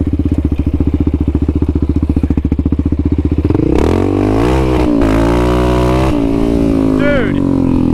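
A Yamaha Raptor 700 ATV on bald tires, its engine throbbing at a steady idle before revving hard and loud as the wheels spin without traction, close up, with voices faintly mixed in.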